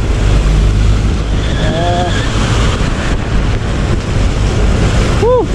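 A 2020 Yamaha NMAX scooter pushes through deep typhoon floodwater on a highway, a steady loud rush and churn of water with wind buffeting the microphone, with a few brief horn-like tones.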